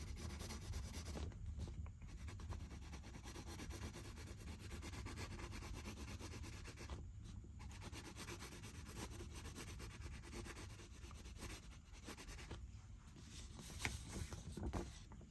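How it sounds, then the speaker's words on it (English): Pencil or crayon rubs back and forth on paper while coloring in the black keys of a printed piano keyboard, a quiet, close, scratchy stroking with brief pauses between passes. "But I'll go on ahead by coloring all of these black keys first."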